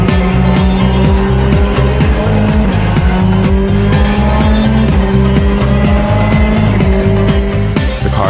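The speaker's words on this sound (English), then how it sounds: "we can use full engine power." A Volkswagen Polo R WRC rally car engine roars at full throttle on dry ground, loud and close, its pitch climbing through repeated gear changes with rhythmic revving and no voices.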